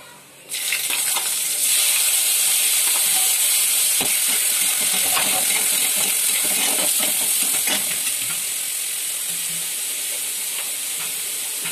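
Shrimp dropped into hot oil in a pan for a Bengali fresh jute leaf stir-fry, setting off a loud, steady sizzle with crackling pops that runs continuously and eases slightly toward the end.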